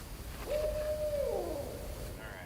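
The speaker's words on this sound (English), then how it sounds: "I think it might be an owl." An owl hoots in a video game, one drawn-out, fairly loud call rising over a steady background hiss, with a faint higher tone near the end.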